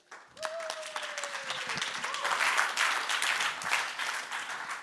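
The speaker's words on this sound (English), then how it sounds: "let's have a big round of applause" Audience applause at a startup pitching competition builds after a brief whistle-like tone, spreading into a steady, moderately loud round of clapping that swells over the final seconds.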